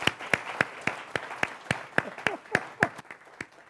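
Rhythmic clapping in unison after a song at a tribute ceremony, about a dozen sharp, evenly spaced claps at a moderate pace, fairly close, with faint voices underneath.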